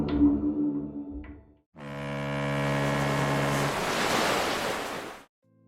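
The ferry MS Viking Sally at sea in 1987: a steady rush of ocean waves mixed with a low engine hum swells and holds for several seconds, then cuts off abruptly.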